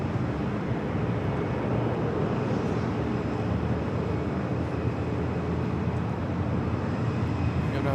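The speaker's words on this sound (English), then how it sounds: "Another takeoff. Southwest flight out to Sacramento." A Southwest airliner taking off at LAX, bound for Sacramento, gives a loud, continuous broadband jet roar that holds steady throughout without talk.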